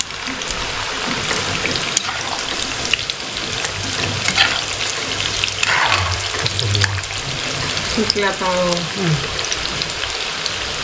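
Sweet shankarpali dough pieces frying in hot oil give a steady loud sizzle and bubbling crackle throughout, with faint clinks of a stirring spoon and brief talk in the background.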